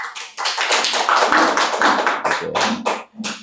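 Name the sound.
audience applause for David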